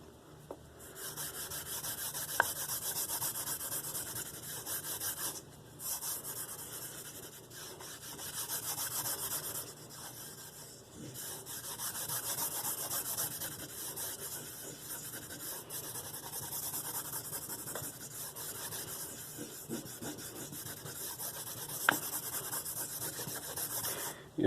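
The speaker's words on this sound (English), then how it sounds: "If you're applying the compound and it's not going on as fast as you want, just flip it over on the corner." Tallow-based aluminum oxide compound rubbed onto a leather strop, a steady, close scratchy rubbing with a soft sanding texture that continues without breaks, fairly quiet.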